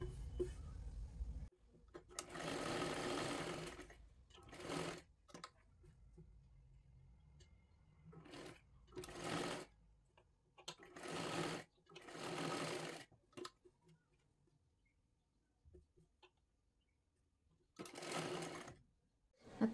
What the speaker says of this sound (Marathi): इथे राऊंडला पण आपल्याला शिलाई करून घ्यायची आहे.